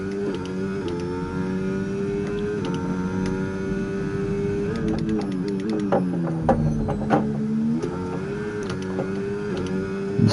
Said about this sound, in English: Really revving up those rear tyres now.